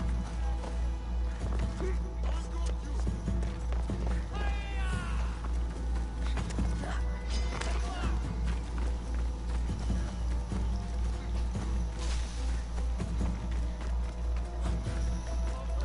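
A horse gallops in the video game Assassin's Creed Odyssey, with a steady, repeated clip-clop of hoofbeats running throughout, mixed with busy in-game ambience and effects.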